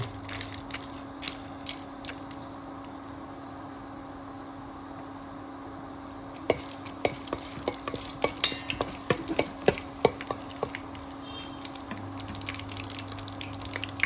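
Soft crackling and sizzling of dried red chillies and tempering spices in hot oil, with scattered pops and stirring clicks growing busier partway through, over a low steady hum.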